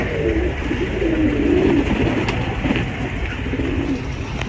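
Several pigeons cooing nearby, low throaty coos rising and falling repeatedly over a steady noisy background.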